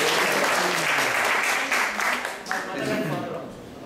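Audience applause at a Sunday class in an ISKCON temple in Atlanta, a sustained wash of many hands clapping that swells and then tapers slightly, with a voice faintly under it.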